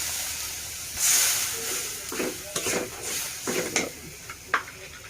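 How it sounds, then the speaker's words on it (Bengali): Spice paste with chili and a splash of water for a duck curry cooks in a pan, a low sizzle broken by several scraping stirs of a spoon against the metal, close and clear. "পানি দিয়ে দিলাম, মশলাটা কষাতে হবে।"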